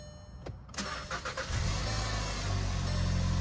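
A Volkswagen Jetta's engine cranks with a few starter clicks and catches, then settles into a steady, close, low idle after a brief rev, with no talking.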